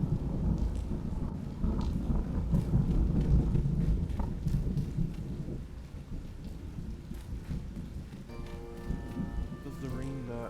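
Steady rain falls with low rumbling thunder rolling underneath, a dense wash of noise throughout, and faint voices and some tonal sounds briefly appear near the end.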